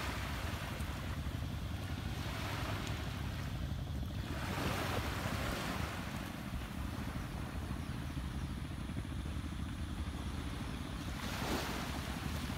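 Ocean waves roll onto the shore of Con Dao island, Vietnam, in a steady, loud surf roar mixed with wind buffeting the microphone, with a few swells rising and falling and no talking.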